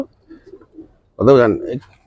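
A Silver Giribaz high-flier pigeon gives a single throaty coo, close and clear, after a moment of soft background sound.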